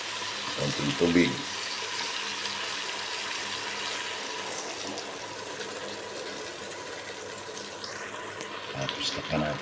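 A little water being poured into a pan of sautéed bitter gourd and shrimp, giving a steady, close splashing pour that runs almost the whole time, with faint voices in the background.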